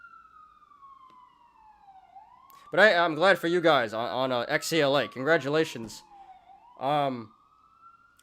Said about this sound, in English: we'll get to SPCE after this stupid ambulance passes